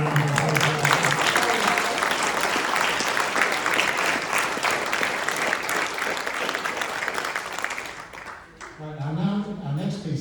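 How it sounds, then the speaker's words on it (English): A concert audience applauds a Salvation Army brass band soloist, dense sustained clapping filling the hall for about eight seconds, then thinning out as the band begins playing again. "I think he deserves another round of applause"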